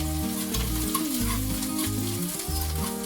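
Finely chopped green chili, ginger and coriander sizzle steadily in hot oil for a rice dhokla batter, a close, continuous crackling hiss with tonal music running underneath.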